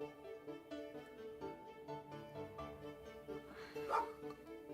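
Mildred, a neighbor's dog, barks repeatedly in short spaced bursts from a distance, faint and muffled behind indoor background sound.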